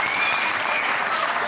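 Audience applause at a live comedy interview show fills the whole moment, a dense, loud, continuous clatter of many hands clapping together.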